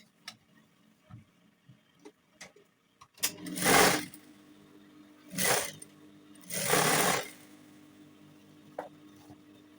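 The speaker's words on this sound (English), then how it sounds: "you sew this down all the way till you get to the end." Sewing machine stitching aso oke fabric for an agbada, three short bursts of rapid whirring stitching between quiet ticks and small handling clicks, close and fairly soft, with no speech.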